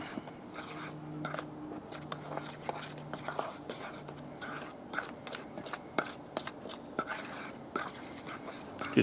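Dry banana bread ingredients, nutmeg among them, being stirred together in a mixing bowl, with soft repeated scraping and light clinks of utensil against bowl in a steady rhythm, fairly quiet and close.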